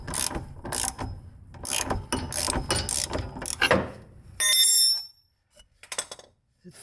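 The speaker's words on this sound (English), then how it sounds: "basically just drive that bushing out of the subframe" A ratchet drives out a rear differential bushing from a BMW E9X/E82 subframe in rhythmic clicking strokes, followed by a brief metallic ring and a few faint clicks after a pause.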